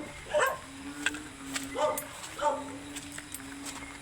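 A few separate dog barks sound out at intervals, moderately loud, over a constant low hum, outdoors at night during a typhoon.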